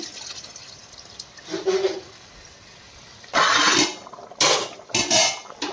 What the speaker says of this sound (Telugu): చూడండి చింతపండు పులుసు వేసుకుంటున్నాం